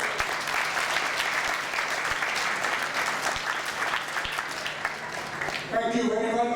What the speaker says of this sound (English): So give them a big clap